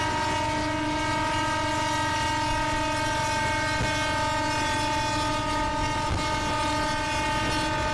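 An EMU local train running the Sealdah–Dankuni line in the Open Rails simulator gives a continuous loud electric motor whine with steady tonal hum and faint rail rumble, close and unbroken throughout.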